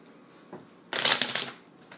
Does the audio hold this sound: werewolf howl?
no